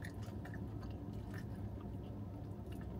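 Close, steady crunching and chewing of crunchy seasoned cabbage from a Jamaican restaurant meal, continuous for a few seconds with no talking.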